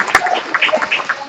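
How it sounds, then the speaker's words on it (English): Brief burst of audience applause at a team meeting, a short patter of clapping from a small group in a room, close and fairly loud. "but a big round of applause."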